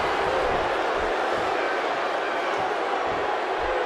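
A large wrestling arena crowd roars in a dense, steady wall of cheering that never lets up, with faint low thumps beneath.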